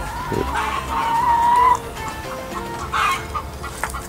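Farmyard hens clucking close by, a few drawn-out calls and short clucks over quiet outdoor background, with no voices.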